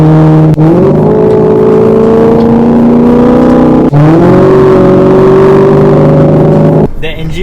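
Maserati GranTurismo with a 4.2-litre Ferrari V8 revving loudly and close, two sharp blips that settle into sustained high revs, then a sudden cut near the end.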